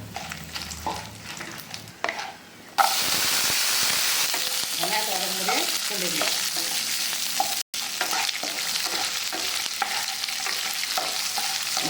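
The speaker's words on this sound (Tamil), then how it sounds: "வெங்காயம் பூண்டு இதை நல்லா வதங்கும் போதே" Onion and garlic sauté in a pan for brinjal chutney, with a bright hiss that rises sharply when they hit the hot oil and continues as a steady sizzle with stirring scrapes and clinks.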